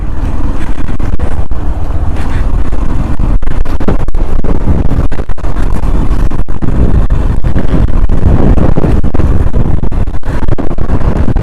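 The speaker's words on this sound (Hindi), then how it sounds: "बड़ी तेज हवा है जी" Loud, constant wind buffeting the microphone, a heavy roaring rumble with gusty flutter that never lets up.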